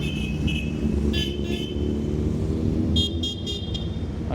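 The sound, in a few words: noisy motorcycle at charity toy run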